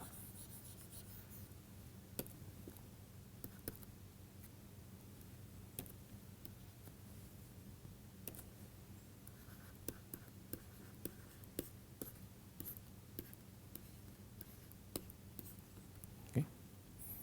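Pen or chalk writing strokes during a lecture on deformation tensors, quiet scratchy taps and short strokes scattered irregularly over a faint room hiss, with no talking.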